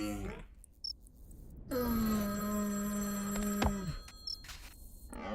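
A telephone in the video game Baby Steps rings with a sustained tonal trill for about two seconds, cutting off abruptly, with short chirps before and after and a voice briefly at the start.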